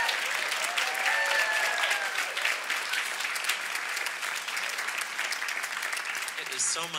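Steady, dense clapping from a concert audience applauding the pianist fills the whole stretch, loud and sustained with a faint crowd murmur underneath.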